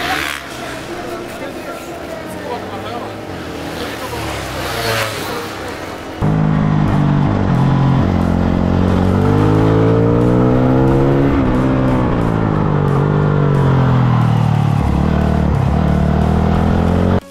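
A TM Racing SMX450 motocross motorcycle engine revs up and down in rising and falling sweeps, loud and close, with a voice talking over it.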